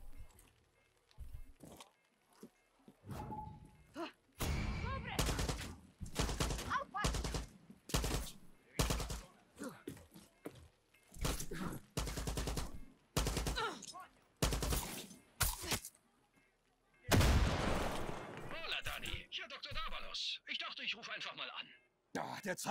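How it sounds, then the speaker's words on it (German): Gunfire in the video game Far Cry 6, bursts of loud shots in irregular clusters, some rapid and automatic, with game voices and ambient sound between volleys. "Sind das Schüsse? Ja, ja, allerdings."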